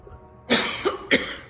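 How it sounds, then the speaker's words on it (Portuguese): Three quick, harsh coughs in succession, close by, the first strongest and the rest trailing after short pauses. "Ai, que tosse chata."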